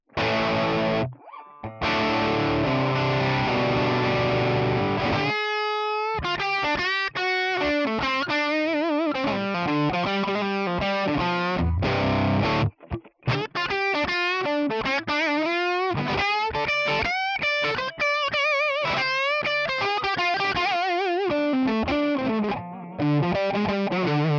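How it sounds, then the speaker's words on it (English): A Les Paul on its bridge pickup plays through a Tonex One crunch amp model with no reverb, giving a loud, driven electric guitar. Chords and single-note lines alternate with a couple of brief stops, and the guitar plays alone throughout. "So let's try the Les Paul on the bridge pickup."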